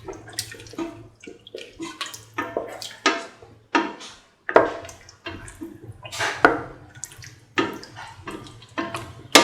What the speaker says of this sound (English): Put in 150 ml of water. Mix